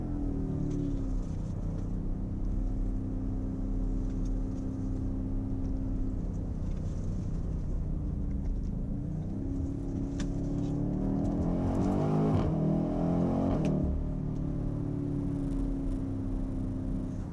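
Steady engine drone from a 2020 BMW X5M Competition with its 617-horsepower 4.4-liter twin-turbo V8 while driving, heard from inside the cabin, holding an even low hum with a brief swell in revs near the end.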